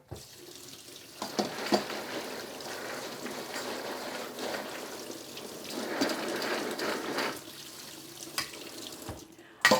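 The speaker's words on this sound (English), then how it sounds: "Now we give them a good rinse again." Soaked chickpeas are rinsed in a large strainer beneath a running kitchen faucet, giving a steady close splashing rush of water that swells and eases over about ten seconds.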